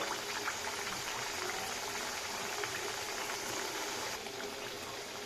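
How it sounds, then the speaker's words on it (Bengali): A layered lachha paratha fries in hot oil with a continuous, even, bubbling sizzle that stays close and steady, with no voices over it. "আমি এবার আস্তে করে পরোটাটা ছেড়ে দিলাম হ্যাঁ পরোটাটা এবার ভাজা হচ্ছে"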